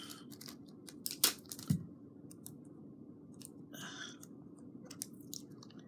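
Scissors cut masking tape in a quiet room, giving a few faint, sparse snips and clicks with one sharper cut near the start.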